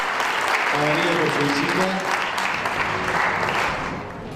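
An audience in Laprida, Argentina applauds a visiting speaker as a gift is presented, sustained, dense clapping that carries throughout, with someone talking over it through a microphone.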